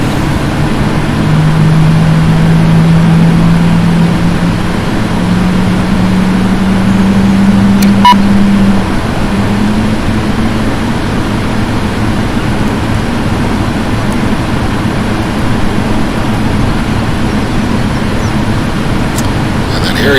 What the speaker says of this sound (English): Okay, good engine start.